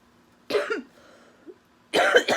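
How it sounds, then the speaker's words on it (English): Two bursts of coughing from a person, each a short harsh cluster close by, separated by a quiet pause with a faint throat sound in between. "If I hide behind it, you can't hear me cough, right?"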